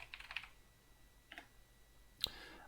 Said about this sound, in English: I'm just going to type in here Doom Eternal